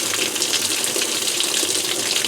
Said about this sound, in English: the lid will lock, and it'll immediately activate the cold water valve